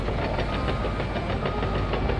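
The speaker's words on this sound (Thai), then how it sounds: "ผมเร่งเครื่องแบบเครื่องเร่งเครื่องเร็วมากเลยนะ" A CAT 320 Next Gen excavator engine revs hard in the Farming Simulator 19 video game, a loud, steady, rhythmically pulsing mechanical drone that never lets up.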